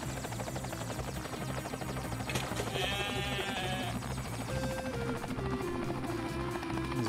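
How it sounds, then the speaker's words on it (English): Sheep bleat in Ty the Tasmanian Tiger 2: Bush Rescue, rising over a steady droning game soundtrack with a helicopter-like hum, fairly loud and continuous with no talk. "Yeah, there's 8 sheep."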